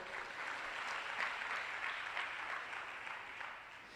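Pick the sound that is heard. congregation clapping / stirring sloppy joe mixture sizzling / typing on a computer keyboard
congregation clapping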